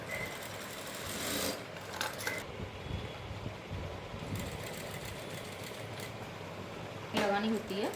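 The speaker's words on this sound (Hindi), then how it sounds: "तो पहले हम इसको सिलाई लगा लेते हैं।" A sewing machine stitches a blouse, a quiet mechanical whir with a rapid rhythmic chatter running in short bursts, with someone speaking over it at times.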